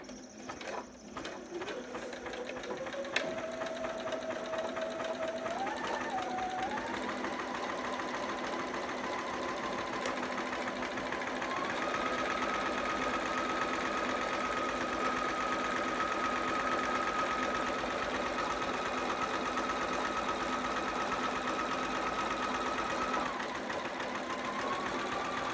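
A sewing machine runs a continuous zigzag stitch along a fabric edge, a steady whirring drone with rhythmic needle clatter that shifts slightly in speed, close and unbroken throughout.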